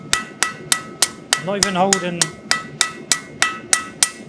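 A blacksmith's hammer taps steadily on metal at an anvil while practicing forging, about fifteen evenly spaced ringing strikes close by, with someone speaking over the middle of the sequence.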